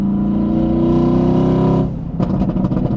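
A Mercedes-AMG GT S engine drones steadily, then the pitch drops and it blips and rumbles through a quick downshift to fourth gear, loud and close.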